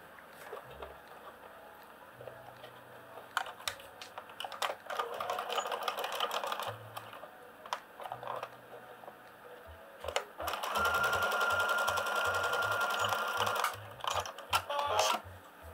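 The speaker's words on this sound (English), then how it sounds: "I'm going to fold it again and then stitch it in place." A sewing machine stitches a folded quarter-inch hem on a drawstring bag in short whirring bursts broken by brief pauses. Near the end comes a longer steady run, fairly quiet and close, with no talking.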